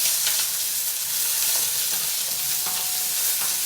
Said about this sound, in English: So we'll add our onions first. Get these guys sauteed.